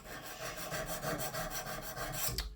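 A long serrated bread knife, just over 20 cm, rasps rhythmically against a DMT diamond cone sharpener in quick repeated strokes; close and continuous, with no voices.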